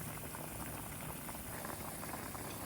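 A seafood scorched-rice soup (haemul nurungji-tang) boils hard in the pot, producing a dense, continuous bubbling and gurgling that stays fairly soft and even throughout, heard alone.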